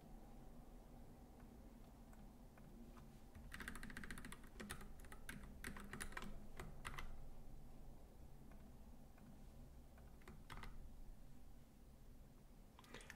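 Keys clatter on a computer keyboard in two quick bursts of close, quiet typing, separated by pauses over a low room hum, with no speech.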